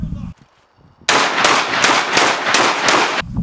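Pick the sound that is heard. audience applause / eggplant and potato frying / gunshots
gunshots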